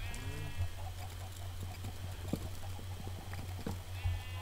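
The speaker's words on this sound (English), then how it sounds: "I like the sound of their little hooves." Hooves clip-clopping softly on the ground in Minecraft, scattered light taps among cows shuffling, with faint animal calls and background game hum.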